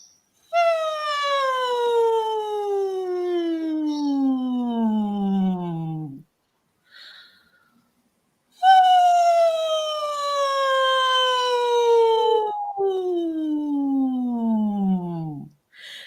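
A voice imitates a siren as a gentle vocal exercise: two long, clear sliding glides that sweep from high to low, separated by a pause, loud and close with no other sound.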